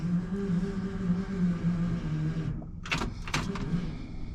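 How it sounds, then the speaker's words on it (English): An old car fuel pump primes with a steady low mechanical hum for a few seconds in a car out of fuel, then cuts off, followed by a couple of short clunks and rattles. "I hear the old fuel pump."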